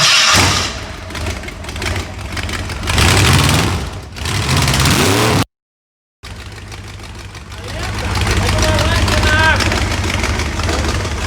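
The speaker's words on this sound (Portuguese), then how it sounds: "esse motor, por causa desse comando de lancha, ficou bem interessante o motor" Hot rod engine fitted with a boat camshaft running on a test rig, a loud rough idle with blips of revving, cutting out briefly mid-way and then restarting to a steady, strong run.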